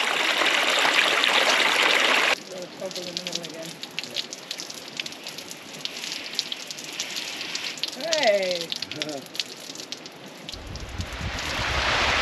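Laundry rinsed by hand in water aboard a remote liveaboard sailboat, splashing and trickling close up after a loud rush of pouring water, with a voice briefly talking over it.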